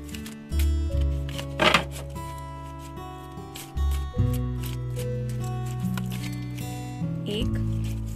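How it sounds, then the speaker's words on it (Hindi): Oracle cards are shuffled by hand during a tarot reading, with several short riffling, flapping bursts and soft slides of card stock up close, punctuated by brief pauses. "सेकंड ओरेकल में से भी 3 बार शफल करके कार्ड देख लेंगे"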